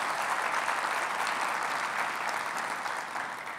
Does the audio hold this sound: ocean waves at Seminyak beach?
no